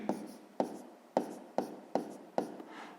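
Chalk writing out a sixth-grade fraction solution on a board, six crisp evenly spaced taps with brief scraping tails, close and clear, followed by a softer rubbing stroke at the end, with no voices.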